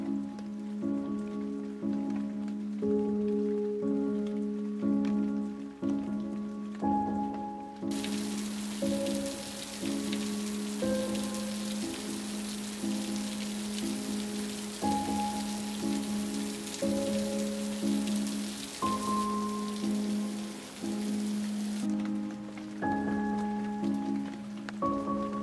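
Rain patters steadily on hard surfaces over a tonal musical backdrop. The hiss swells strongly through the middle stretch, then eases back.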